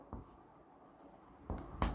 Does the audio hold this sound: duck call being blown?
no